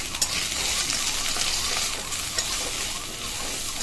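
Spice paste with coriander powder fries in a pan, giving a steady close sizzle with soft stirring scrapes and no voices throughout.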